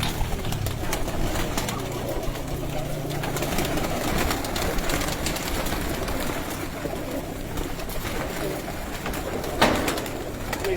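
Pigeons coo softly from rooftop coops amid a busy outdoor background, with low rumbling calls repeating over steady ambient noise and a brief sharp knock near the end.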